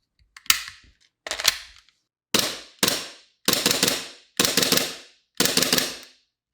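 A short-stroked airsoft Glock firing and cycling, seven sharp snapping shots in quick pairs and singles with crisp mechanical clacks, close and loud against silence.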